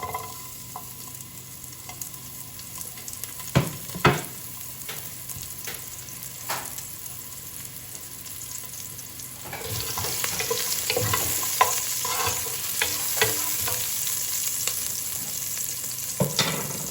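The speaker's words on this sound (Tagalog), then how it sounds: "mainit na po ang oil. Lagyan natin ng sibuyas." Onions sizzle steadily in hot oil in a home kitchen, cooked as the start of a stewed chicken tinola; a few stirring clatters come early, then the frying grows louder and denser from midway on, with no talking.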